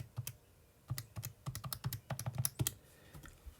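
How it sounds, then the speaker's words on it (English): Calculator buttons are pressed in quick, irregular bursts of close, crisp clicks during a chemistry lecture, with no talking. "you might hear me clicking onto the calculator."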